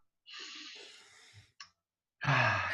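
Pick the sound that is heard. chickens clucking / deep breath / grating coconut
deep breath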